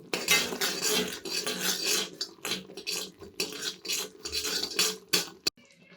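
Peanut chikki mixture with ground peanuts and roasted chana being stirred in a pan, a busy run of metal spoon scrapes and clinks against the pan, close and steady with brief pauses, no talking.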